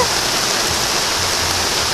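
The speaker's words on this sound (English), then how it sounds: "It is pouring rain." Heavy pouring rain in Belize, a dense, steady, loud hiss of water drumming on surfaces that continues without pause from start to finish.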